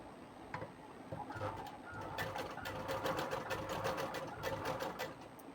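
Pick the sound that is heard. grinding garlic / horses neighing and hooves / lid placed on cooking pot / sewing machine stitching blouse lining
sewing machine stitching blouse lining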